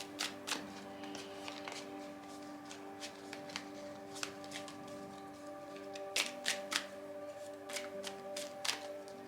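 Tarot cards being shuffled by hand for a reading, soft quick riffling and tapping in irregular bursts, faint and close with no talking.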